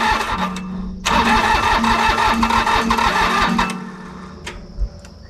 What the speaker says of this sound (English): Yeah, you can tell it's firing, but probably just on that one cylinder.